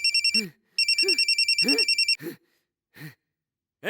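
A telephone rings in two trilling electronic bursts, close and clear, with short breathy vocal sounds between and after the rings.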